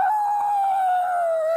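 A person vocally imitates an elephant with one sustained, high, trumpeting wail that slides slightly downward, loud and alone.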